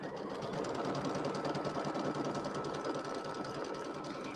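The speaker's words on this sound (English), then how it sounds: "I'm going to sew out number 2, which is the tack down line for the batting" An embroidery machine stitches a tack-down line through batting on no-show mesh for an Easter settee pillow, a steady, continuous mechanical whir with a fast needle rhythm running alone at moderate level throughout.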